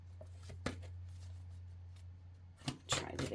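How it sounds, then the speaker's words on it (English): Tarot cards being shuffled by hand, with a soft riffle early on and a couple of brisker, louder bursts of card flutter near the end over a steady low hum. "my shuffling is being challenged at the moment."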